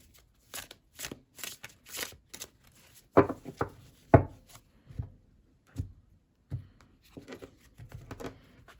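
Oracle cards handled and drawn from a deck, a series of crisp close-up flicks and shuffling riffles followed by sparse soft taps and slides, with no talking.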